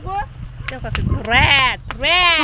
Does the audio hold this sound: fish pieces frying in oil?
no